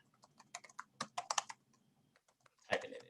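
Keystrokes on a computer keyboard come in irregular clusters of close, crisp clicks, with a short pause and then a louder final tap, as if someone is entering a web address.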